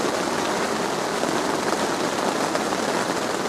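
Rain falling steadily on a Dhaulagiri Terra Pro 4 tent, a dense, even hiss of drops drumming close overhead on the fabric, loud and continuous with no talk.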